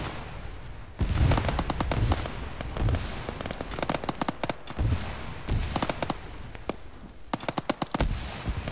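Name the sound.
gunfire in the video game Arma 3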